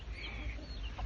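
Several chickens and chicks kept at a family home, faint soft clucking and small peeps over a steady low background rumble, no talk.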